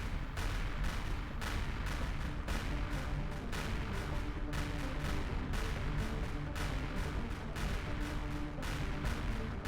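Turret gunfire in the space game Empyrion Reforged Eden, a steady rapid stream of loud repeating shots in a regular rhythm over a continuous rumbling din, lasting throughout.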